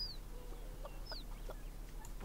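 Chickens in a farm life video game cluck in short, soft bursts, with a few higher squawks over a steady low background hum and no talking.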